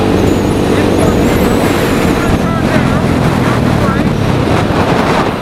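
A quad bike with a clutch engine running steadily while riding, loud and close with heavy wind buffeting the microphone throughout, without any pauses.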